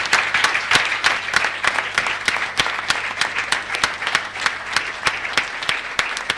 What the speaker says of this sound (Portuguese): aplauso desta igreja.